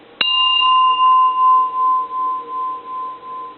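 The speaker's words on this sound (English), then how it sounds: "Japanese Buddhist personal bell, and it's a lovely piece from September of 1945 from a very famous temple." A Japanese Buddhist personal temple bell of bronze, dated 1945, is struck once and rings out with a clear, bright tone that hangs and slowly pulses as it decays over several seconds, heard alone.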